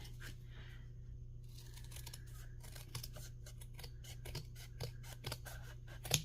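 Scissors snip through a paper journal cover piece in a run of crisp, uneven cuts, close and fairly quiet, with a steady low hum underneath and no talking.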